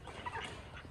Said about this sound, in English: We got some ducks playing in the mud.